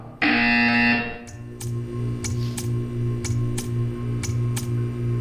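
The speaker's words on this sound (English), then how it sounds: "You will hear a buzzer. When you hear the buzzer, stare at the art." A loud buzzing tone in the video game Portal 2 sounds for about a second, then a steady low hum continues with repeated faint ticking clicks at an even pace.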